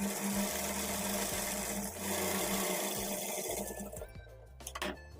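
Sewing machine stitching along the edge of a blouse waistband, a continuous close mechanical hum with rapid needle clatter that slows and stops near the end, followed by a few clicks.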